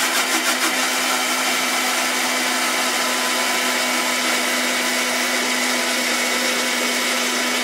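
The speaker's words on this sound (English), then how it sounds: "that the blender, commercially rated though it be, is beginning to labor." A commercially rated blender whirs steadily and loudly throughout, laboring as oil is added for aioli, a constant motor drone with a grinding edge that never lets up.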